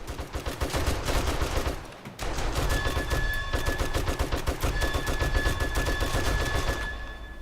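Rapid automatic gunfire from 7 Days to Die rattles almost nonstop in dense, loud bursts, with a brief pause near the start before the shooting resumes and continues to the end.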